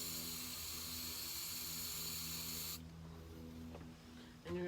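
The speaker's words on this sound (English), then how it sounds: "You're gonna spray it inside that circle" Spray paint hisses into a cake topper in one steady burst that cuts off abruptly, leaving a quieter background with a couple of small clicks afterward.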